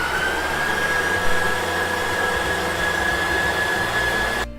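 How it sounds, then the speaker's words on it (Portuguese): An electric stand mixer whirs steadily while beating chocolate cake batter as egg yolks are added, a loud, continuous motor drone with a faint high whine that holds evenly for about four seconds before cutting off. "Então aqui a gente liga a batedeira e eu vou começar a colocar essas gemas."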